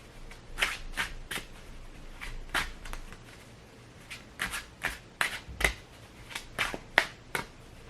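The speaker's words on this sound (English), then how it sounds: "they don't shuffle badly" Cards from a laminated, fairly stiff tarot deck being shuffled by hand in close, crisp riffling bursts, repeated about a dozen times with short pauses between them.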